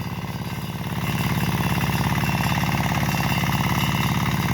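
A new small tractor engine runs with a steady, rapid chugging pulse, close and fairly loud, settling into a slightly stronger even rhythm after the first second.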